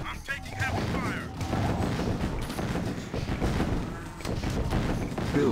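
Gunfire and explosions from a Command & Conquer: Tiberian Sun battle as the Nod faction, dense continuous bursts of shots and thuds filling the whole stretch at steady loudness, with game voice announcements mixed in.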